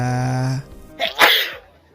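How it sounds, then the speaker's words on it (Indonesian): A single close, sharp sneeze bursts out right after a sustained voiced tone, followed by a short breathy tail and then quiet. "Bersin sembarangan."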